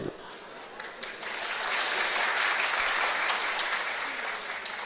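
An audience clapping at a comedy show, a dense wash of applause that swells and holds steady throughout, close and loud.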